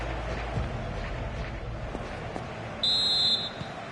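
A referee's whistle blows once for half time in a football video game, a short, bright, fairly loud tone rising above a low, steady crowd murmur near the end.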